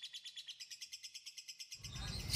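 A lovebird chirps in a rapid, even series of high, sharp notes, then a brief rustling noise rises at the end.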